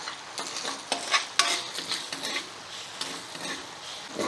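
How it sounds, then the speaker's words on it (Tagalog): Hot cooking oil crackling and sizzling steadily in a pot, ready for sautéing garlic and onion, with a few sharp metallic clinks of a utensil scraping and stirring; no voices. "Nagmamantika na po siya."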